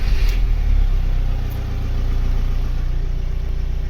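A VW/Audi car engine runs steadily at a smooth, even idle after starting, a loud close mechanical hum with no voices.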